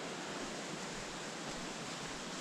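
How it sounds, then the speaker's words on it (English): Cedar Rock Creek, a mountain stream in North Carolina, rushing in a steady broadband wash of flowing water, close and constant with no voices or other sounds over it. "Nice stream."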